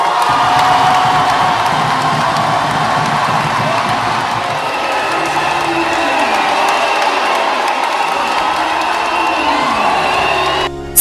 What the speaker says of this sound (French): C'est avec joie et satisfaction, danse et cris de joie, que les chrétiens catholiques, membres de l'église locale de Kananga, ont accueilli la nomination de Félicien Tamboka Sembe